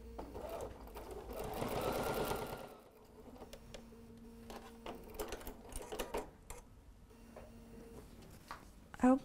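A sewing machine top-stitching around a small patchwork fabric heart with purple thread: a fast, quiet mechanical whir in short runs, pausing and restarting, with soft handling noises in between.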